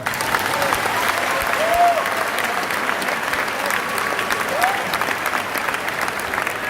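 An audience at a motivational talk breaks into steady, sustained applause, a dense, even clatter of many hands with a faint cheer or voice rising briefly above it.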